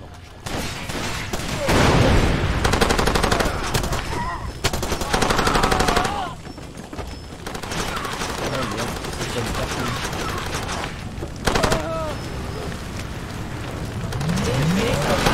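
Rapid bursts of machine-gun fire ring out in the Far Cry 2 video game, loud and close, with pauses between volleys. Someone speaks over the shooting.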